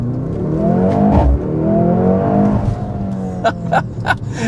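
A 2025 Mercedes-AMG GLC 63 S E Performance plug-in hybrid accelerating, its engine note rising and falling through gear changes, heard from inside the cabin with sharp clicks near the end and no speech.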